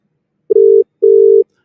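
Telephone ringback tone heard on an outgoing call: two loud, steady electronic tones with a short gap between them, with no other sound.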